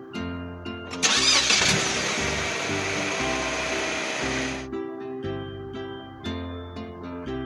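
A car engine starts with a long cranking roar that holds for a few seconds before cutting off, all set against a rhythmic children's song beat that carries on afterward.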